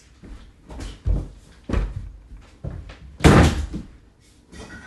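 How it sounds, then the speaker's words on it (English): Doors are shut one after another in a series of close thuds and bangs, with one especially heavy slam standing out among the softer knocks. "Shut all the doors."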